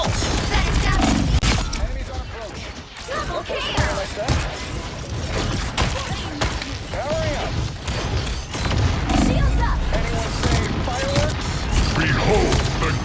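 Iron Man's weapons in the game Marvel Rivals: continuous bursts of sci-fi gunfire and mechanical clanks mixed with explosions and game effects, loud and busy throughout.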